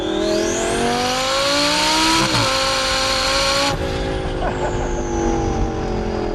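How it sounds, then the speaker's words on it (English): A Lamborghini Gallardo V10 revs hard and close, its loud sustained engine note climbing and dipping, with a sharp hissing release partway through. "A V10 with turbo blow-off noise might be better."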